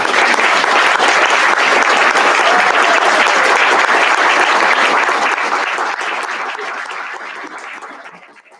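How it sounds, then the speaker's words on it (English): Loud, sustained applause from a large audience at a Wall of Fame induction ceremony, steady for several seconds before gradually fading out. "Let's give them all a round of applause."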